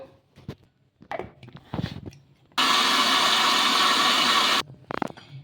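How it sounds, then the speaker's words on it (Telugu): A mixer grinder whirs loudly for about two seconds in one burst, dry-grinding dosa batter ingredients without water, bracketed by knocks and clatter of the jar before and after. "ఒక మిక్సీ జార్ తీసేసుకొని ఇంకా మిక్సీ పట్టేసుకోవాలి"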